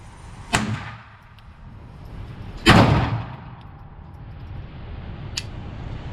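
A Smith & Wesson Model 61-2 Escort pocket pistol fires two sharp, loud shots a couple of seconds apart, followed by a fainter third crack, against a steady background rumble.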